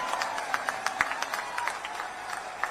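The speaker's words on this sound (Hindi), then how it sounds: "जोरदार ताली बजाकर उनका स्वागत करें" A crowd at a political rally in Kawardha, Chhattisgarh claps steadily, with many overlapping hand claps forming a dense, fairly loud patter and sharper individual claps standing out throughout.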